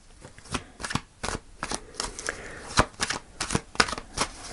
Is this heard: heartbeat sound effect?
no